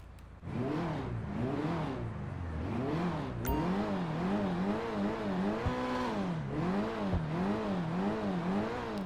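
A Pegassi Jester RR sports car engine in GTA 5 Online revs up and down repeatedly in smooth, rising and falling waves, loud and close, with no talking.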